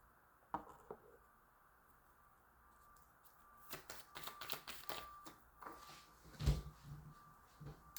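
Tarot cards being shuffled by hand at close range: quiet, soft rustles and riffles that build into a denser, crisper flurry partway through, with one sharp snap near the end.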